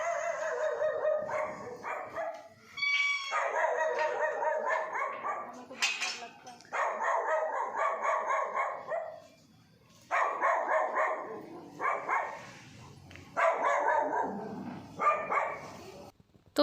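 A dog barks and yelps repeatedly in long, loud bursts, with short quiet gaps between runs of calls, close by and with no talking.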